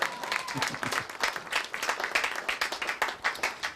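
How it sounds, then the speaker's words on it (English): A crowd at a wedding claps and applauds steadily after a speech, a dense, even patter of many hands with no pause. "That deserves another round of applause."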